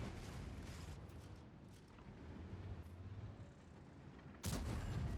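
Artillery fire in the tank game World of Tanks: a dense, rumbling barrage of gunfire and booms that runs throughout, then a sudden loud blast near the end.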